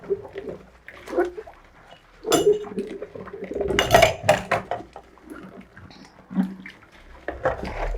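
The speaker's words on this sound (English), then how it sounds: "You wash nicely so that you remove all the dirt on these utensils." Dirty utensils, dishes and pots are washed in a home kitchen with warm water, giving repeated clinks, clatters and scraping of metal and crockery in uneven bursts, with water splashing.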